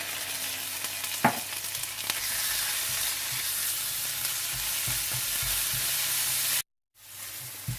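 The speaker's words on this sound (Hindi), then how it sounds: "पिसा हुआ अदरक लहसुन डाल दें और इसे भी थोड़ा सा भून लें" Steady, close sizzling of onions with ginger-garlic paste frying in hot oil, with occasional stirring scrapes and taps; the frying noise continues throughout before briefly cutting out near the end.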